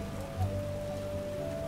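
Heavy downpour in The Witcher game, a dense continuous hiss of rain falling steadily throughout, set against a low droning background tone.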